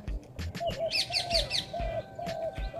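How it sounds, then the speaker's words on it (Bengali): Quick bursts of sharp, high chirping calls from a parrot repeat in short series, fairly close, over faint rustling and soft thumps, in the early morning. "টিয়া পাখি ডাকছে"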